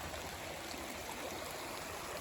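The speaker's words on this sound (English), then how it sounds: "But here's another spot of the creek." A woodland creek flows steadily upstream, a continuous close rushing and trickling of water with no voices.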